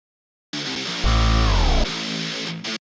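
Ending of a drill beat made in FL Studio: a short loud burst of guitar and hats, then a heavy sliding 808 note that drops out abruptly, leaving a brief tail before the sound stops dead.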